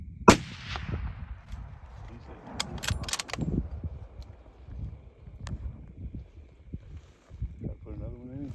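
A rifle shot fired on a free-range aoudad hunt in West Texas rings out as one sharp crack near the start, followed by hunters talking quietly amid outdoor rustling.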